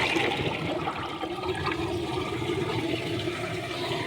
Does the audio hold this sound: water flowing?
yes